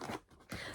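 A zipper on a craft storage bag for cross-stitch supplies is pulled in two short, close scratchy runs separated by a brief pause, fairly quiet and with no talking over it.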